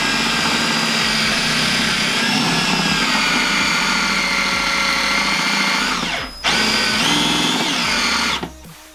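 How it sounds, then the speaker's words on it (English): A power drill with a half-inch bit bores into plastic during a snowmobile seat install on a 2015 Arctic Cat XF8000, giving a loud, steady high whine that dips briefly and resumes before stopping, with no voices. "the 1/2-inch drill bit is the biggest one in this set"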